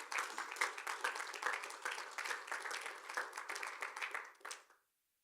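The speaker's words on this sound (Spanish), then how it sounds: "Dele un aplauso al Señor" A church congregation claps together in a loose, lively round of applause, many hands at moderate distance, which fades out and stops near the end, leaving silence.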